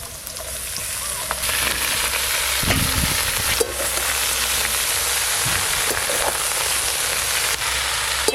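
Chopped red amaranth greens hiss and sizzle in hot oil in a pan with lightly fried potato and eggplant, a loud steady crackle with occasional stirring scrapes, close and continuous.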